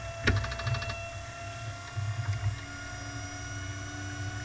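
An engine with a 2 barrel carburetor cranks briefly, then catches and settles into a low, rumbling idle, heard close up and moderately quiet.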